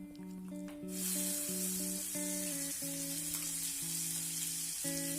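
Masala spices hit hot oil with cumin for a vegetarian egg curry and burst into a loud, steady sizzle that carries on close by, while a faint tonal hum from a kitchen appliance runs underneath throughout.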